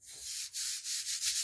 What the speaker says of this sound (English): I'm going to use the sander to try to get my edges